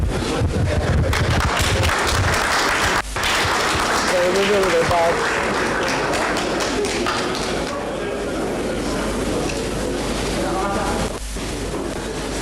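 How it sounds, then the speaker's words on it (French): Audience applause at an official ceremony, dense and sustained clapping filling the room for several seconds, with voices talking over it and a brief dip partway through. "A round of applause, please. Applaudissements, s'il vous plaît."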